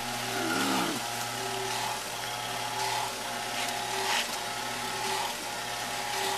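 The motor of a pump for GFRC concrete runs with a steady, droning hum and a faint mechanical whine that stays even throughout, with no voices.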